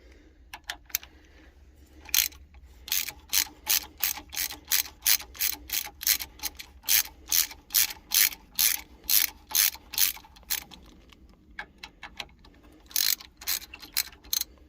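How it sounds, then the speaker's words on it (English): Ratchet clicking steadily while backing out thermostat housing bolts on a 3.0L engine in a 1999 Bayliner Capri 1950 boat, long runs of close, sharp, rapid clicks with brief pauses and a low hum underneath. "I'm going to go ahead and take these two bolts out of the thermostat housing."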